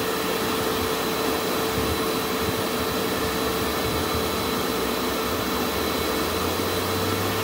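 A Bissell Pro Heat 12 amp carpet cleaner runs its suction as a loud, steady, unbroken roar close by, with a low hum that shifts slightly near the end.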